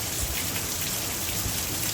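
Heavy rain pours steadily onto a tall corn field, a dense, unbroken hiss of drops close by with no pauses and no voices.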